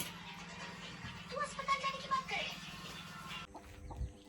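Chickens clucking in short bursts over steady background hum, with voices murmuring nearby; the sound stops abruptly near the end.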